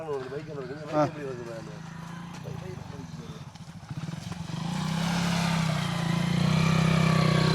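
A motorcycle engine rumbles and revs up, growing louder and steadier, with people talking over it at first.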